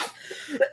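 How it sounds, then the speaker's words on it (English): One short, close cough bursts out at the end of a brief moment, following a soft breathy lead-in. "I still have that cough. It's so annoying."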